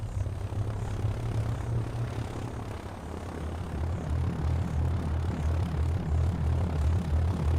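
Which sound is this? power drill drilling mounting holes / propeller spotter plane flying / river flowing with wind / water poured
propeller spotter plane flying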